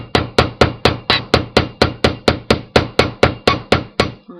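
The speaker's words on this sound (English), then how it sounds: "I'm going to give this rounded end a hammer so that this doesn't unbend." About fifteen sharp metal hammer strikes on the rounded end of a wire clasp, in a steady, even rhythm, close and loud, with no talking.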